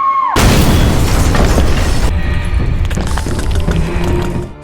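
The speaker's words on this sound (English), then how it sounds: "a violent explosion erupted from inside" A violent explosion in a horror film bursts suddenly from inside a room, a loud boom with shattering debris followed by a long roaring, crackling decay.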